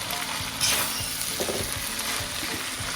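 Spicy chicken noodles turned in a hot oiled pan, a continuous close sizzle broken by soft rhythmic scraping and clicking strokes of the utensil, with no talking.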